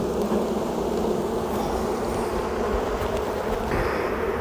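Agitated honey bees crawl over the comb inside an open hive, making a steady, close, continuous buzzing hum with no voices.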